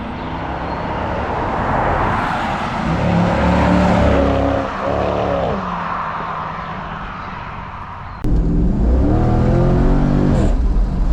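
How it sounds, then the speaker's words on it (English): A 2000 Chevrolet Corvette C5 with stock exhaust revs loudly up close, its engine climbing and falling through several throttle blips, then cutting and restarting into another rising rev, with no voices. "Even the tone of the engine, you can tell that's American."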